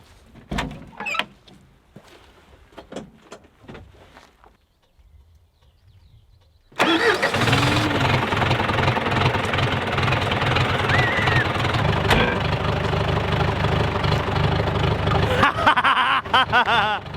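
Quiet shuffling and a few clicks, then a tractor engine cranks and catches abruptly on a cold start without its engine heater, settling into a loud, steady rumbling idle that continues to the end.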